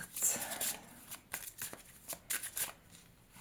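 Playing cards being shuffled by hand come in several quick riffling bursts, close and crisp, with short pauses between them and no talk over the shuffle.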